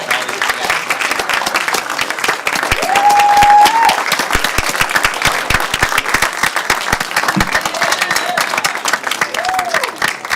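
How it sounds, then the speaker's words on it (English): A large audience at a plenary session gives loud, sustained applause for the panelists, a dense wash of clapping that continues for the whole stretch with a few voices and a short whistle mixed in. "Another round of applause for our amazing panelists."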